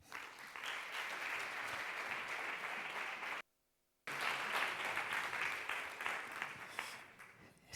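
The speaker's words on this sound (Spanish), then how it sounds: "Vamos a recibir a Iker con un fuerte aplauso." An audience at a science club talk applauds to welcome a speaker, a sustained burst of dense clapping heard from within the room, cut by a short silent gap before it resumes and continues to the end.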